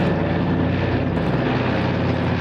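Steady, loud propeller drone of a military transport plane flying over Normandy, used to carry parachutists on the D-Day anniversary, heard from close by with no voices.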